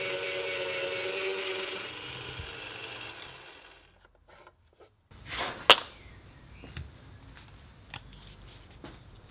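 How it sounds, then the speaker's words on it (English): A drill press whirs steadily for a few seconds while drilling 90 mm holes partway into a wooden plate using the depth stop, winds down, then a sharp scrape and clatter follow with a few faint knocks. "I drill the 90 mm holes with the depth stop of my drill press"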